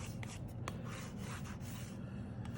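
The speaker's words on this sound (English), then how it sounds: "Just kind of rubbing it along, doing it on the edges" A palette knife rubbing acrylic paint along the edges of a paper art journal page, giving soft, close scraping strokes in a steady back-and-forth rhythm over low room noise, no voices.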